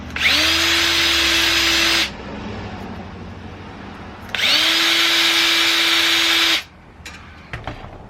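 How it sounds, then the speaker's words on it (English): A power drill whirs in two long, steady bursts, each about two seconds, with a quiet pause between them; loud and close, a drill bit deburring a cut brake line. "When you cut it, I like to chase it with a drill bit"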